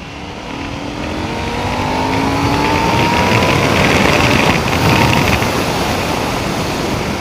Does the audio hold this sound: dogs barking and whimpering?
no